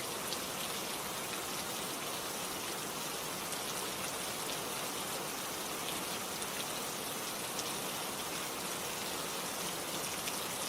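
Steady rain falls without a break, a dense, even patter on surfaces with no rhythm changes, close and fairly loud, with no voices.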